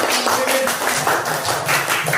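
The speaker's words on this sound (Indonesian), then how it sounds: "Tepuk tangan dulu buat teman-teman." Group applause with hands clapping, a dense continuous loud patter of many claps filling the short stretch.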